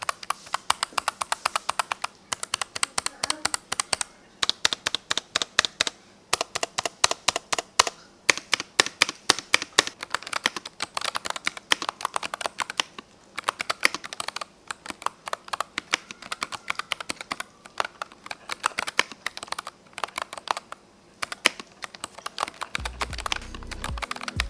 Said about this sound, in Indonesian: Ngetik di sini tuh satisfying banget.